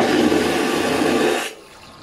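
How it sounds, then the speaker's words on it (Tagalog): Vacuum toilet on a ship flushing, a loud, forceful rushing hiss lasting about a second and a half before cutting off abruptly into quiet. "Pag flush nyo, may lumalabas na ng tubig."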